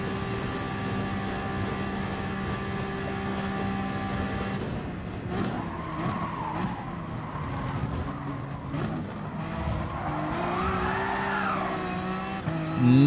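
A race car in a racing video game revving hard and steady, then its tires squeal and skid through an oversteer moment, engine pitch wavering as it recovers.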